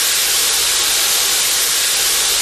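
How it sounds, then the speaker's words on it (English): A coal-fired steam boiler hisses loudly and continuously, a dense, unbroken rush of steam close by. "That thing you can hear making the noise next door, that's a boiler"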